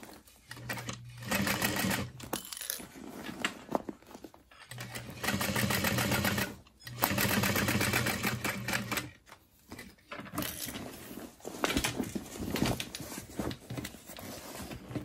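A sewing machine stitching a satchel bag runs in bursts of rapid, even stitching, pausing briefly between runs as the fabric is repositioned.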